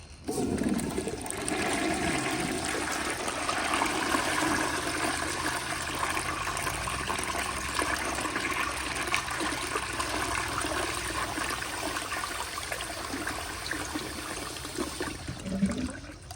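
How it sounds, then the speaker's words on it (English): A 1951 Crane Neuday toilet on a flushometer valve flushes with a loud, sustained rush of water lasting many seconds, steady and close, then tapering as the bowl refills and siphons. "here's another flush"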